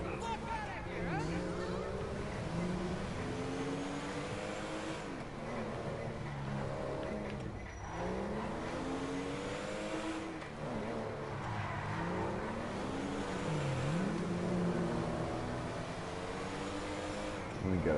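A video game car engine drones and revs continuously, its pitch sweeping up and down with acceleration, heard beneath overlapping voices throughout.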